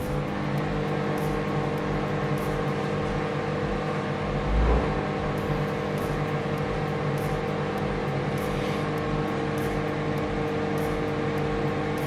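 A Samsung ceramic-inside microwave oven runs with a steady, close, tonal hum and whir that holds constant throughout, with a faint clunk midway.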